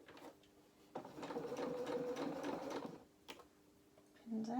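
A sewing machine stitches a curved seam in felt fabric for a doll's bloomers, running in one steady burst of about two seconds with a brief whir afterwards and a short rising machine tone at the end.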